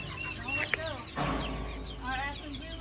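Chicken clucking in short bursts at close range, with a person talking over it.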